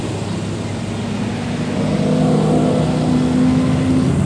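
A race car engine failing and pouring smoke during a race roars as a steady, loud broadband drone with a rising tonal whine. No voices are heard.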